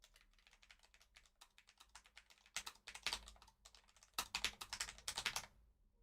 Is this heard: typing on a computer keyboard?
yes